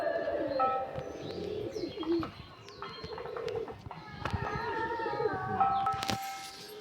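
Phulshira pigeons, a fancy breed kept by a Krishnanagar fancier, coo softly and repeatedly with a few chirpy bird calls mixed in, nearby and fairly quiet, with no talk over them.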